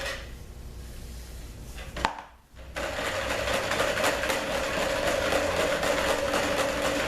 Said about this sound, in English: And we want to really whisk it up good.